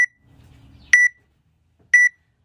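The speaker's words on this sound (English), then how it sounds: "I'm going to put the timer on" Workout interval timer sounding three short, sharp electronic beeps about a second apart, loud and close, with a faint low murmur between the first two beeps.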